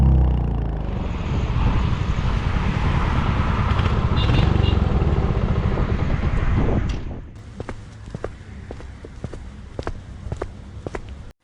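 A motorbike in a Hindi village story revs loudly and pulls away for about seven seconds, then fades, leaving a quieter scene with scattered sharp clicks and taps.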